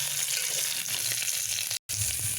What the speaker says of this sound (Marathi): त्यांना पण आपण चांगलं फ्राय करून घेऊ.